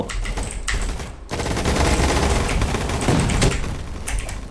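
Rapid automatic gunfire in the Roblox shooter Gunfight Arena, dense bursts crackling almost without pause over a few seconds after a brief gap, loud and close.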